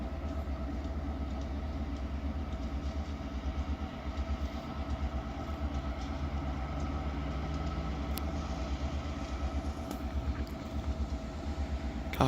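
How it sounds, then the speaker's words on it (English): A train engine rumbles nearby with a low, pulsing throb that swells slightly, a steady idling-to-revving drone heard from close by with no talk. "It's revving up its engine."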